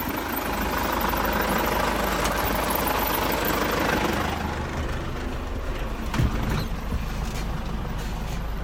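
A tractor pulls a New Holland round baler through high-moisture alfalfa, its engine droning steadily and loudly at close range with continuous mechanical rumble throughout.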